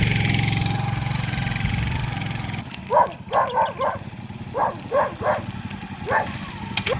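A motorcycle loaded with roofing sheets idles with a low, steady engine rumble. The engine then drops away and a dog barks repeatedly in short bursts nearby.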